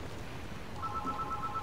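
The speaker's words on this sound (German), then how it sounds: "Und da klingelt das Telefon." Telephone ringing in the stealth game Splinter Cell: Blacklist, a steady electronic ring tone that starts partway through and continues to the end over a low rumbling game background.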